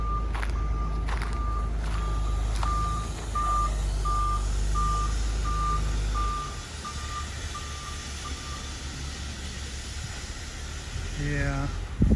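A big truck reverses during a garage and shop build, its backup alarm beeping in a steady evenly spaced series over a loud low engine rumble, with the beeping stopping partway through.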